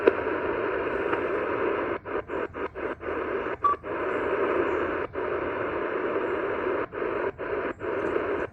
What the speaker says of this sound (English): that sounds to be like a HFDL signal, high frequency data link